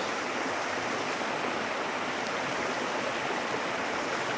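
Natural mountain water in Tajikistan gushes steadily through a pipe, a loud, continuous rushing hiss that stays even throughout, with no voices.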